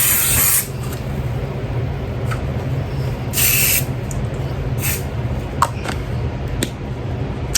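Several short hissing bursts of Vera Wang perfume sprayed close by, the first few long, later ones brief puffs, all over a low steady background hum.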